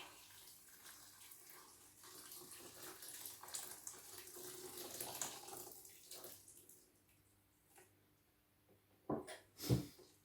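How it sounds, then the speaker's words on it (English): Hot water pours from a kettle in a steady, soft stream for several seconds, then tapers off, followed by a couple of close knocks and clatters. "is to pour the hot water on."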